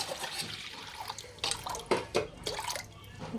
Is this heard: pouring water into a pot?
yes